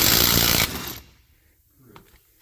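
A Ryobi 18V 1/2-inch cordless impact wrench runs loudly in a dense rattling burst for most of a second, then cuts off, leaving only faint clicks and handling noise.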